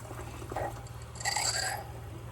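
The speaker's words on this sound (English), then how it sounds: "Wait until it stops dripping." Soft trickling and dribbling of a mojito from a Drinkworks by Keurig drink machine into a glass, faint and close, with a brief brighter splash in the middle.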